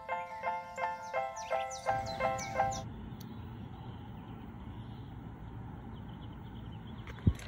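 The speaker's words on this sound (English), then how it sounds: "those are the birds chirping outside my window" Birds chirping outside a window in a rapid, repeated series of bright calls for about three seconds, fairly close, then fading into quiet room hum with a single knock near the end.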